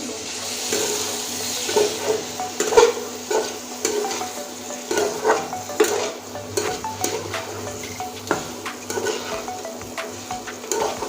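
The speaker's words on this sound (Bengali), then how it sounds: "আর এখানে আছে ভেজে রাখা আলু আলুটাও দিয়ে দিচ্ছি দুটো একসঙ্গে কষানো হয়ে যাবে" Fried potatoes and chicken are sautéed together in spiced masala in a pan, with a constant close sizzle and frequent irregular scrapes and clanks of a spoon against the metal.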